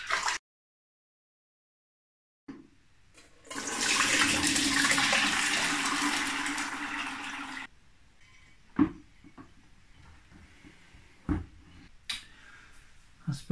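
Homebrew liquid pours and drains through a colander, a few seconds of rushing, splashing water after a silent stretch, followed by quieter trickles and a few sharp knocks.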